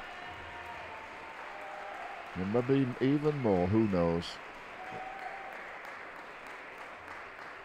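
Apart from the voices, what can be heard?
crowd applauding at table tennis match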